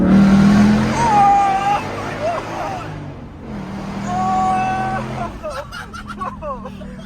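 A Ford Mustang 5.0 with an H-pipe exhaust accelerates hard in second gear through a tunnel, its engine note rising loudly and echoing, then easing off briefly before surging again. Voices talk and exclaim over it.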